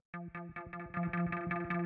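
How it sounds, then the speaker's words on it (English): Repeated chord stab for a deep minimal house track, fattened with a drum bus effect: a series of short harmonic synth hits in a syncopated rhythm, bright and saturated, played alone. "we have a bit of drum bus, just kind of fattening it up"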